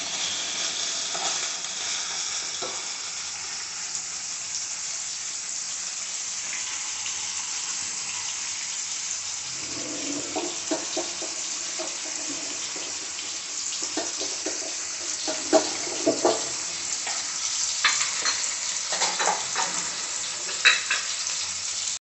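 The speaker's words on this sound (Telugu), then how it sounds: "లైట్ బ్రౌన్ కలర్ వచ్చేదాకా పన్నీర్ను ఫ్రై చేసుకుంటాం" Paneer pieces fry steadily in a pan until light brown, with a continuous soft sizzle and occasional stirring clatters, no talking.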